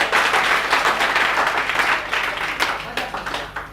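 Students in an electrician theory class clap together, a loud dense burst of applause that holds steady and then tapers slightly over a few seconds.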